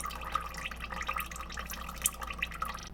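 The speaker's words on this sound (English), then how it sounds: "And now we're draining from the drain plug." Transmission fluid draining from the drain plug of a Toyota into a pan, a faint, close trickling and dripping with small splashy taps over a quiet background.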